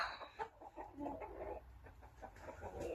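Chickens clucking softly in a yard, scattered low murmuring clucks from several hens, fairly faint and somewhat distant, with a rustle of outdoor background.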